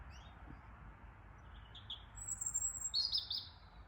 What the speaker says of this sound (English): Can you hear this lovely bird song?